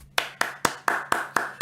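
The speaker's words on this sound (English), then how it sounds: "clap your hand" Seven sharp hand claps in an even, steady rhythm, close and fairly loud, with no talking between them.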